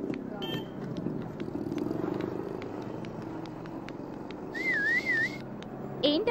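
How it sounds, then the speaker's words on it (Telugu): A person whistles a loud, wavering tune in a Telugu movie scene, heard in short bursts near the end over a steady background rumble of traffic. "మా విజిల్ మంచి సౌండ్ మీద వస్తుంది"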